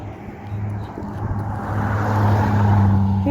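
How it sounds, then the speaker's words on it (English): A car approaches and passes on a nearby street, its engine hum and tyre noise swelling louder toward the end, with voices faintly in the background. "there's like a few cars going by"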